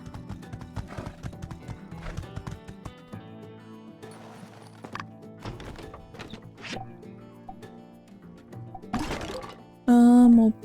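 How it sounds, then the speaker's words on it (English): Horse hooves clip-clopping while riding in the video game My Time at Sandrock, irregular galloping hoof beats with game music underneath and a loud burst near the end. "Okay, we'll ride the horse."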